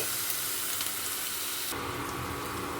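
Jeera rice frying in a hot pan, a steady, close, dense sizzling hiss that briefly shifts in tone midway, without any talking.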